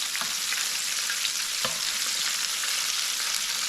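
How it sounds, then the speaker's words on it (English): Southern fried chicken pieces crackle in hot oil with a bright, steady hiss, punctuated by a few soft pops and taps as pieces are turned, no voices. "pieces that are frying, you can see that sometimes that you need to flip them over"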